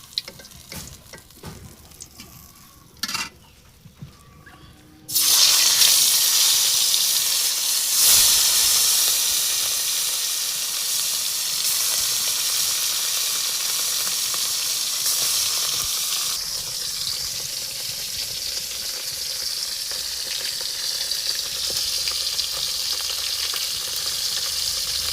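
Food dropped into hot oil erupts into a loud, dense sizzle after a few quiet handling clicks, then keeps up a steady close bubbling hiss for the rest of the stretch.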